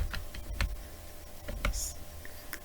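Key taps on a computer keyboard while a formula is entered in an Excel spreadsheet: a few sparse, quiet clicks spread irregularly across the moment, close by, with no talking.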